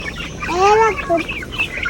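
A big chicken in a backyard coop gives a loud, drawn-out call followed by a few shorter clucks, heard close by within about two seconds.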